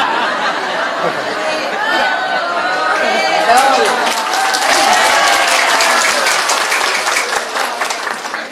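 An audience at an Indonesian preacher's comedic sermon bursts into applause, building to a dense, loud wash of clapping mixed with chatter and laughter throughout.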